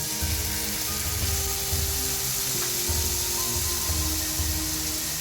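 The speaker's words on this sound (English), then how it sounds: "Let it fry for about half a minute." Vinegar and soy sauce sizzle loudly in a hot pan with golden-fried ginger and garlic for a chicken stir-fry noodle dish, a steady, close, continuous hiss with no talking.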